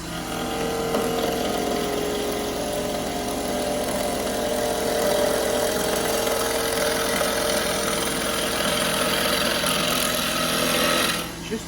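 Wood lathe in a Tasmanian woodturning workshop running up to 2,500 rpm while a blank is turned into a cylinder, giving a steady, loud, continuous motor hum and whine that holds evenly throughout.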